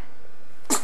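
A single short, sharp sneeze bursts out near the end after a moment of quiet room hiss, close and fairly loud.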